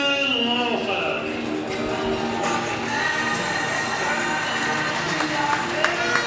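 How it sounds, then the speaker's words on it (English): A speedway crowd at a Poole Pirates versus Berwick Championship meeting applauds and cheers a rider, a continuous roar of clapping and voices with a loudspeaker announcer's voice running over it. "Your appreciation, please, as he comes round to see your applause, Richard Lawson."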